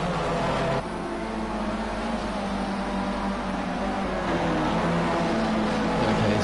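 Racing cars in a PS4 racing game, a dense continuous engine roar holding steady and loud with a slight shift in tone early on.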